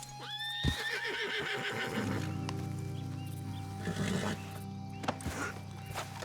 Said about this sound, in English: Just trying to calm my horse after encountering that snake.